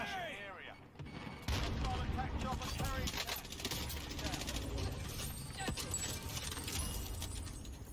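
Gunshots in the Warzone video game, dense bursts of firing and impacts crackling loudly for most of the stretch, with a person talking over the action at times.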